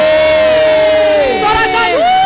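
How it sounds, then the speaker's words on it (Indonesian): A church congregation at a Sunday worship service cheers loudly together, a sustained wall of voices with a sung tone running through and a brief swell of shouts near the end. "Sorakan."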